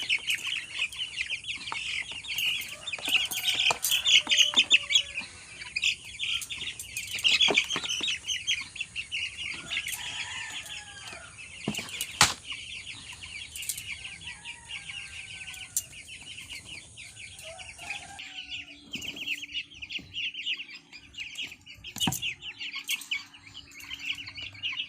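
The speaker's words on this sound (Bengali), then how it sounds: "এই যে দেখো মুরগি" A coop of chickens with their chicks keeps up a dense, high chatter of clucks and cheeps for the whole stretch. The calls are close, bursty and overlapping, and no one speaks.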